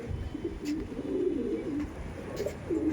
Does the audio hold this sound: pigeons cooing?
yes